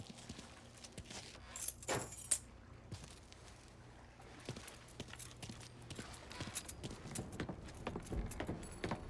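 Car keys jingling in Mafia III, a few brief metallic clinks and rattles that come up now and then over quiet background movement and faint footsteps.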